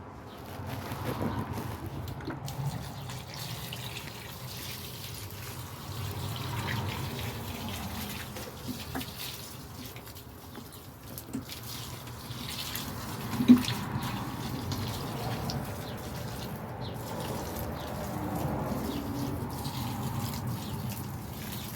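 Water running from a garden hose outdoors among garden plants, a steady soft splashing wash that continues throughout at moderate, fairly constant level.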